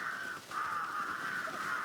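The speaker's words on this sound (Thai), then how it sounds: "อีกาก็มาใหม่" A crow cawing in the video game Time on Frog Island: two drawn-out, nasal caws with a short break between them, clear and prominent over a faint background, with no talk.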